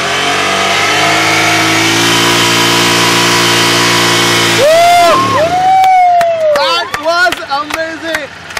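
A motorcycle engine drones steadily, then revs up sharply to around 6,000–7,000 RPM several times in quick bursts, loud and close.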